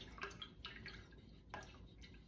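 Fragrance oil poured into hot melted candle wax, a soft close trickle with faint drip-like splashes, brief bursts rising over a steady low background hiss.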